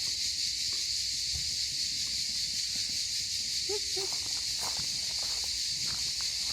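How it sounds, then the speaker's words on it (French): Loud, dense morning chorus of cicadas at a holiday villa, a continuous shrill buzzing drone that persists unbroken throughout, with faint scattered rustles and small nearby noises underneath and no talking. "les cigales elles chantent super fort ce matin"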